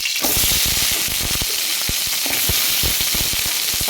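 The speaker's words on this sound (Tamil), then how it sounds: "பச்சை மிளகா பூண்டெல்லாம் கொஞ்சம் தோலோடு போட்டோம்னா கொஞ்சம் வெடிக்கும்" Shallots, green chilies and unpeeled garlic frying in hot oil in a pan, a loud steady sizzle broken by many sharp pops and crackles as the skins burst, with no voices.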